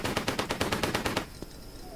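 Rapid automatic gunfire from an enemy in a Tomb Raider level, a steady burst of about eight loud shots that cuts off, then one faint final report and quiet.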